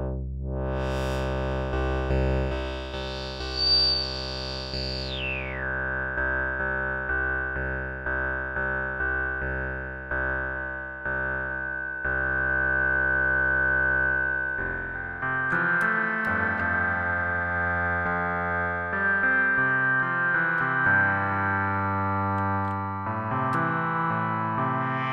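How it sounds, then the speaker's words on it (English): Roland S1 synthesizer playing a sustained tone that blends three chopped waveforms, a steady harmonic drone with a pitch sweep early on, then shifting layered notes with richer, buzzy harmonics in the second half; no talking. "now we can blend in our three chopped waveforms."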